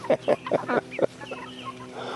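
A few close chicken clucks come in a short rhythmic run, followed by softer ambient farmyard noise.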